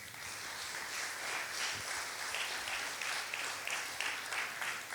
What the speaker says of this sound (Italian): fare un applauso di benvenuto